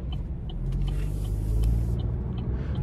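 A 2024 Buick Envista Avenir with a 1.2-liter turbocharged three-cylinder and six-speed automatic accelerates onto an interstate, a low steady engine drone and road rumble heard from inside the cabin, building slightly over a few seconds.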